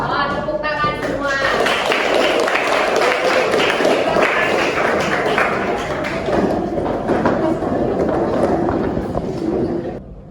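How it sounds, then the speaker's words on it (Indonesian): Classroom applause breaks out as students clap hands together, a sustained dense patter of claps with voices mixed in. "Oh, tepuk tangan semua."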